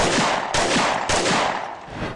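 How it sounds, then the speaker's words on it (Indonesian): Three sharp gunshots in quick succession, each a loud crack with a rough, reverberant tail, about half a second apart. "Lalu tiba-tiba terdengar 3 letusan."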